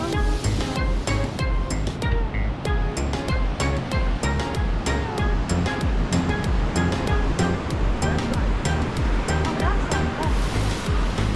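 Ocean surf washes onto a beach at Dreams Macao, a loud continuous rush of breaking waves with choppy bursts throughout, close by and with no voices over it.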